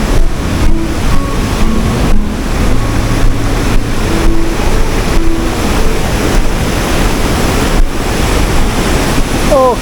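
A rushing mountain stream on a trail near Premilcuore roars continuously with broadband water noise, loud and close, with wind buffeting and faint engine-like hum mixed in.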